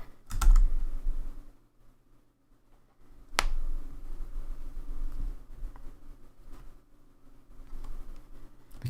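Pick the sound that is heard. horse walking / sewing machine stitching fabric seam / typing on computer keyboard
typing on computer keyboard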